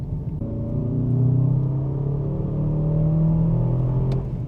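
Performance SUV accelerating hard in fourth gear from low revs up to 90 mph on a track, a loud, close engine note rising in pitch steadily for several seconds, heard alone.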